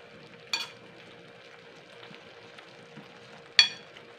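Papaya and sardines sautéing in a pan, a quiet steady sizzle broken by two sharp metallic clinks of a utensil against the pan.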